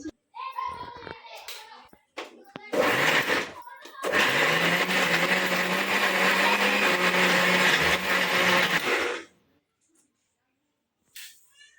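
A mixer grinder whirs loudly while grinding biryani masala with a little coconut in a home kitchen, with a few short pulses first and then a steady roaring run of about five seconds that stops abruptly. A brief voice is heard at the start.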